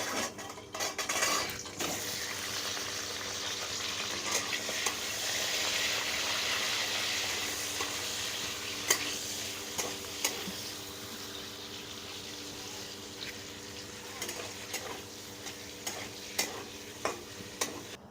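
Paneer pieces frying in hot oil: a close, continuous sizzle with repeated stirring and sharp clinks of a metal spatula against the pan, which grow more frequent toward the end.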